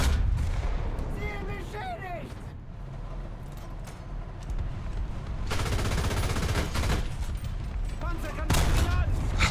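Tank gunfire from an M18 tank destroyer battle in a video game, heavy booming shots and rattling fire over a constant rumble, with someone talking over the action.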